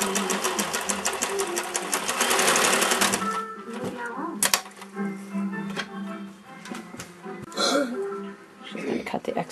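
A sewing machine stitches a zigzag along a fraying fabric edge in a quick burst at the start, then falls to intermittent short runs and clicks with a person talking in between.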